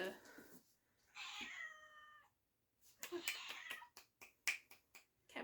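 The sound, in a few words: cat meowing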